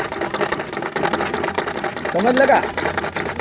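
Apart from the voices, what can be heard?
sewing machine stitching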